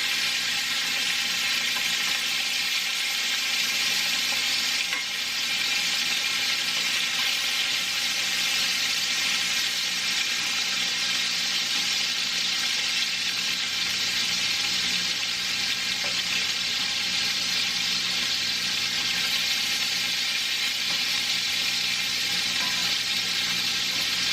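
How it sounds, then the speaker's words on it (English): Sausages sizzle and spit steadily in a hot frying pan, a dense, continuous crackle held up close for the whole stretch with no talking over it. "Alright, these are frying up crazy. They're going wild."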